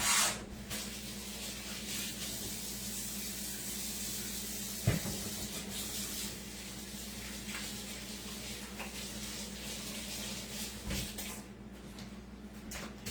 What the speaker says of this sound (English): Let me wash my bacony hands.